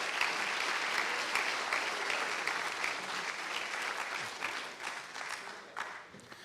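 Sustained applause from a crowd at a hackathon closing ceremony, the dense clapping steady at first and slowly thinning and fading toward the end, with no voices over it.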